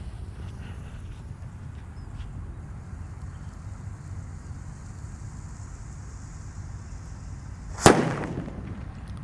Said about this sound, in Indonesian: Seperti itu suara mercon gledek.